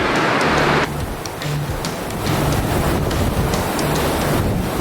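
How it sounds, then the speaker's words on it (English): Heavy, continuous roar of whitewater at a crux rapid on a river swollen by heavy rain, with broad rushing noise and wind buffeting the microphone throughout. "This is one of the crux rapids of our trip and one of the more exciting rapids for the day."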